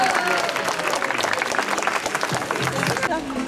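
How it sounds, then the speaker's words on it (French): An audience at a zoo applauds after a sea lion show at Plaisance-du-Touch, a crowd's sustained clapping under a presenter who keeps talking through it. "Allez, vous pouvez l'applaudir, c'était parfait."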